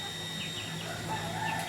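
Hens and roosters of a Manok Aceh flock cluck and call softly in the background over a steady hum, with no talk heard.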